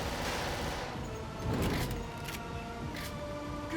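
Gunfire and booming blasts in the video game Resident Evil: The Darkside Chronicles on PS3, a dense burst of shots with a heavier boom near the middle, sitting under continuous game music and effects.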